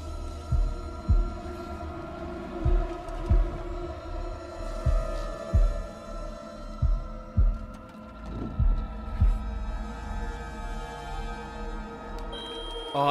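In the Little Hope horror video game, heartbeat sounds play during a quick-time sequence: a loud, booming heartbeat pulses in regular paired thumps over a low droning hum, with no talk.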